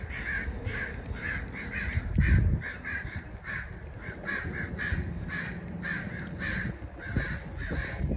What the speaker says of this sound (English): there's a lot of black crows here